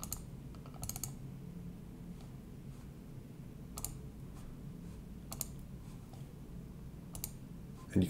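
A computer mouse clicks a few times in short, sharp pairs and singles over a steady low room hum, close and fairly quiet, with no one talking.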